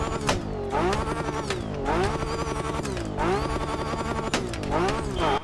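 A car in The Crew Motorfest with an engine sound kit adding pops revs up and down in repeated cycles, a loud close engine roar rising and falling with crackling pops between shifts.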